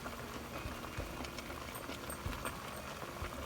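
A pot of water boiling steadily for DIY whipped body butter, with a continuous bubbling hiss and scattered soft pops, moderately quiet and close.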